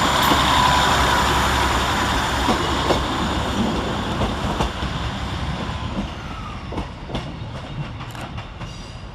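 Train 156416, a diesel unit, pulling out of Carlisle railway station, engine rumble fading as wheels clatter over joints in irregular clicks and bangs.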